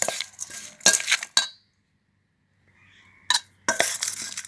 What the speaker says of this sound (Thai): แล้วก็คนทุกอย่างให้เข้ากันค่ะ คนให้ส่วนผสมเข้ากันเลย